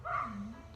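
Dog giving a single short bark-like yelp inside a house, close and moderately loud.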